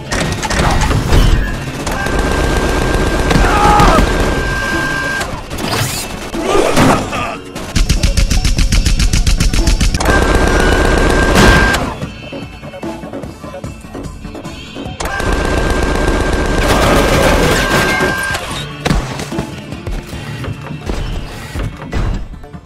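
Video game gunfire in Tales from the Borderlands: loud, dense bursts of rapid machine-gun fire in several long sustained volleys separated by brief pauses, close and dominant.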